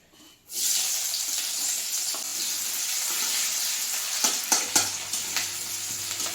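Onions dropped into hot oil for a Bengali fish curry burst into a loud, close, steady sizzle, followed by a few sharp clinks and scrapes near the end, with no voices.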